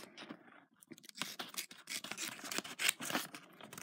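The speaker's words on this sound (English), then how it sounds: "So, cut them out." Scissors snip and scrape through glossy magazine pages as pictures are cut out, a rapid series of close, quiet crisp cuts with some rustling paper.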